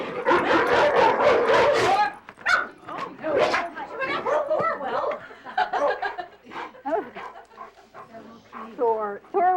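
An aggressive attack dog barks loudly several times, then breaks into a series of whines, whimpers and yips, with people talking and chuckling alongside.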